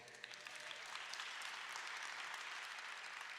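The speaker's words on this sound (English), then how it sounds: "Applaud Senator Raoul" An audience at a Saturday morning political forum applauds Senator Kwame Raoul, a sustained, even roar of many hands clapping from a crowded room, faint in level but continuous throughout.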